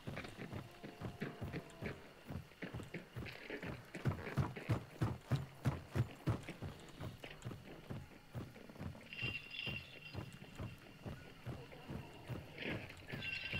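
Horse hooves clip-clop steadily in the video game Hunt Showdown, a long run of rhythmic hoofbeats that swells louder midway and then carries on over a soft background, with a brief voice in places.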